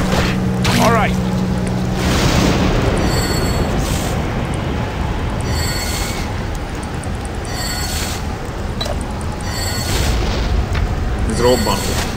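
Explosions rumble through a Dungeon Siege: Legends of Aranna battle as a sustained, dense roar of low booms and crackling debris that lasts the whole stretch, with a voice talking over it.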